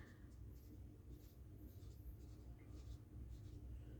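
A pen scratches across paper in steady short strokes while a worked exam answer is written out, faint and close over a constant low hum, with no voices.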